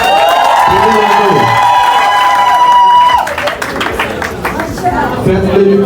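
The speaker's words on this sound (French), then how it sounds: "on applaudit s'il vous plaît." Wedding guests at a civil ceremony in the Talangai town hall break into applause midway, a burst of clapping and cheering that follows a sustained voice and mixes with crowd chatter and talking toward the end.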